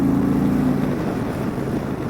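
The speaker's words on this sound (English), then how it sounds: "it's a 116 cubic inch motor. It sounds very good." An Indian Motorcycle Chieftain Limited with a 116 cubic inch engine runs under open throttle, a deep, steady rumbling drone with some wind rush, heard briefly and up close without speech.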